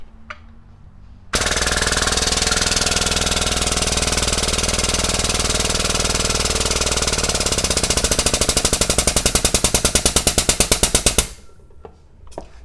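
A 10,000 pound automatic pneumatic wire crimper pump starts abruptly and runs with a loud, steady mechanical drone. The drone turns into rapid, evenly spaced pulses near the end, then cuts off, with no talk over it.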